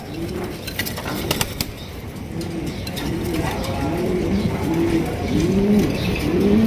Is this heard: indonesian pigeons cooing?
yes